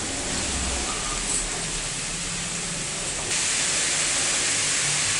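Grated bottle gourd goes into a pan of melted Dalda, giving a steady loud hiss and sizzle that holds even throughout and swells a little louder near the end, with no talk.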